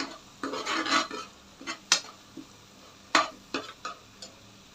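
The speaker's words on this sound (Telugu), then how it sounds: "ఇప్పుడు ఒకసారి కలుపుకుందామండి" Chilli powder, salt and curry leaves frying in a pan as masala for a fish curry are stirred with a utensil, giving irregular nearby scrapes and sharp clinks over a faint sizzle.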